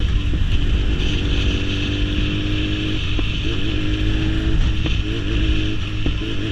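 A 2017 BMW S1000RR inline-four motorcycle engine roars loudly and continuously up close, its steady drone broken by a few sharp crackles and pops from the exhaust scattered through the run.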